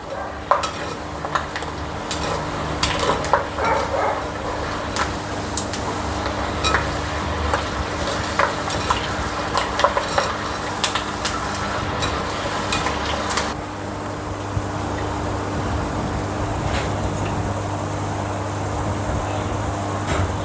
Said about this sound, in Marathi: आपल्याला कारले तळून घ्यायचे आहे